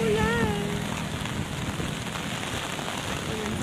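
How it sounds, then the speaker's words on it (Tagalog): Steady rain falls on a roadside in the Philippines near a bridge, a dense even patter filling the whole stretch, with a brief voice sounding at the start. "Oh my God! Inabot na ulan!"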